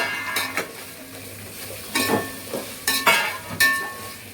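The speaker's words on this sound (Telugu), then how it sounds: "సో ఆలు కూడా వేసారు ఫ్రెండ్స్, మనకి చక్కగా వేగిపోతుంది" Thinly sliced potatoes frying in a pan for vegetable biryani, a steady sizzle broken by several sharp scraping stirs and clinks of a utensil against the pot. No one speaks.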